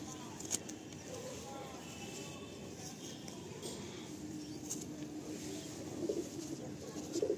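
Madrasi pigeons coo softly and repeatedly from close by, their low rolling calls rising and falling through the clip, with a few louder coos toward the end.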